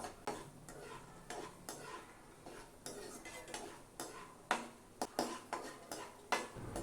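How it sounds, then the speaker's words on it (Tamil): Cashew nuts roasting and stirred in a pan for homemade kara pori, with irregular scraping and clinking strokes of a spoon against the metal, fairly quiet and close, with no talk. "இந்த முந்திரியும் இப்போ வறுபட்டு லேசாக நிறம் மாறிட்டு வருது."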